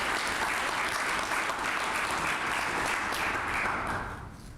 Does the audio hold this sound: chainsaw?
no